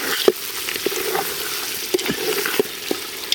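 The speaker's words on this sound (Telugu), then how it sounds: "చికెన్ మసాలా వేసుకుందాం లైట్గా అడగంటుంది" Chicken with masala sizzles in a pan over village cooking, a steady frying hiss broken by occasional sharp stirring scrapes and taps, close and fairly loud.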